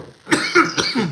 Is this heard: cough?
yes